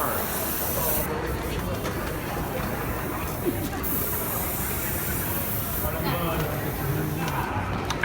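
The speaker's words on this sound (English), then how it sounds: "Hairspray. Don't breathe." Hairspray sprayed backstage at a Halloween haunt attraction, a close, continuous hiss that runs almost the whole clip in a few long bursts, while people talk nearby.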